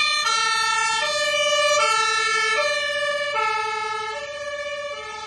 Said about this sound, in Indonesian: Mobil pemadam kebakaran.